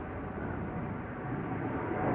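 A Turkish Airlines Airbus A330-300 in special biofuel livery at Schiphol's Polderbaan gives off a steady, broad jet roar, fairly close and unbroken, with no voices over it.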